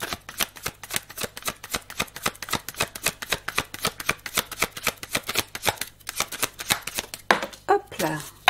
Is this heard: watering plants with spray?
no